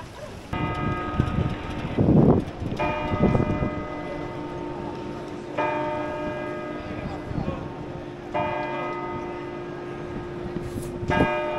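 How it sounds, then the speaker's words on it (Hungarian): Church bells in Piazza Maggiore, Bologna, striking eleven o'clock; long sustained peals with repeated strokes ring out across the open square, mixed with wind noise and passers-by talking nearby. "Piazza Maggiore, ez Bologna főtere, és most éppen 11 órára harangoznak"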